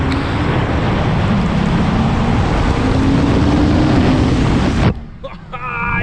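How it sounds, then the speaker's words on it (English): Loud, steady roar of a Jeep Gladiator engine fitted with a cold air intake, held for several seconds and then cut off abruptly, leaving a faint quiet tail. "this is one of the best sounding cold air intakes I've ever heard"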